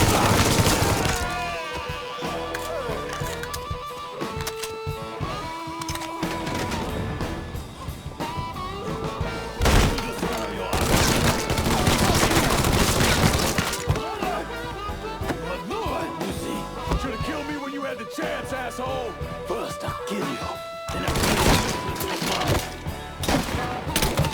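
Gunfire in the video game Mafia III, with loud rapid bursts of automatic fire, single sharp shots and shattering impacts crowding together over a game score, broken by short lulls.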